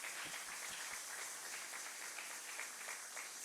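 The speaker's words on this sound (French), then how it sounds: "Pendant qu'il se tient debout, acclamez fortement." A church congregation at a deliverance meeting applauds steadily, a faint, even wash of clapping with no voices standing out.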